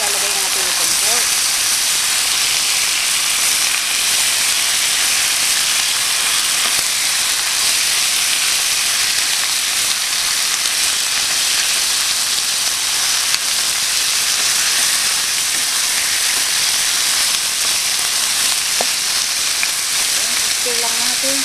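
Pork hitting a pan with shrimp paste for Bicol Express gives a loud, continuous sizzle and hiss that holds steady and close for the whole stretch, with faint talk underneath.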